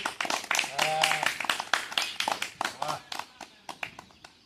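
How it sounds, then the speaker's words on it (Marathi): A crowd at a traditional rope-climbing sports session claps in a quick, uneven burst, sharp hand-claps close by with voices talking over them. "टाळ्या सगळ्यासाठी"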